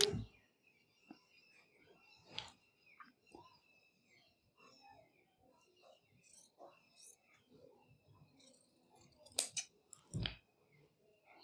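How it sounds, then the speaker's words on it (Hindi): Scissors cutting salwar fabric pieces, faint snips and fabric rustles scattered across the stretch with a few sharper cuts near the end, close and quiet with occasional soft whispery sounds. "अगर हम खोलना नहीं चाहते हैं तो इसी तरीके से रखे हुए हम इसको काट लेते हैं।"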